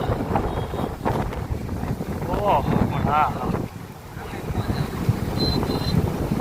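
Sea waves washing onto the shore at Dwarka make a continuous rushing surge, with heavy wind buffeting the microphone. Excited voices call out over the surf.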